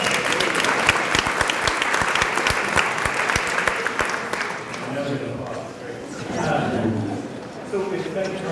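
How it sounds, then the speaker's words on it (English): An audience at a school board meeting claps and cheers loudly, dense applause filling the first half before fading into murmuring crowd noise and a brief swell near the end. "Great cheer."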